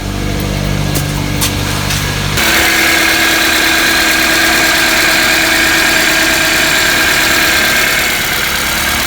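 A Toyota Corolla engine idles steadily around 700 RPM after a serpentine drive belt replacement, a loud, even mechanical hum that steps up abruptly after a brief quieter start and holds constant.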